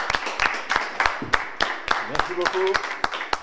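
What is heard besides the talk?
audience applause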